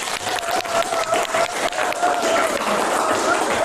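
A classroom audience applauds a student group, sustained loud clapping from many hands that continues steadily throughout, with a faint tonal hum underneath.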